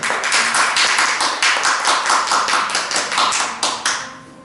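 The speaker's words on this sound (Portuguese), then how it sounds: "Vamos aplaudir o Senhor" A church congregation applauding together, a loud, dense, sustained burst of clapping from many hands that thins and fades out at the end, with no talking over it.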